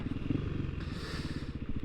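Naked on-road motorcycle ridden slowly over a rough, broken rural track near an abandoned village, a steady low engine putter mixed with clattering and scraping from the uneven surface.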